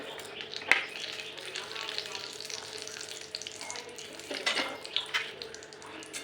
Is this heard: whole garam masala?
yes